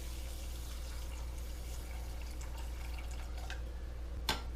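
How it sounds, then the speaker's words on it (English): Watermelon juice poured over chia seeds in a bowl, a faint, steady liquid trickle that runs unbroken, with a few soft drips near the end. "we're going to hydrate these chia seeds using the watermelon juice"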